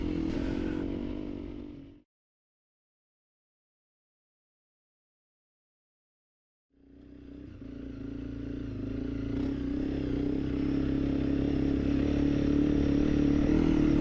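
A motorcycle nicknamed Rigamortis rides a fresh gravel track, its engine note fading out completely, then after a few seconds of silence returning and building into a steady, loud rumble with a growing rough hiss.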